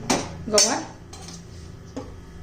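Cluster beans dry-roasted without oil in a wok, with a few metallic scrapes and clanks of a utensil against the pan, close and moderately loud over a quiet background hum.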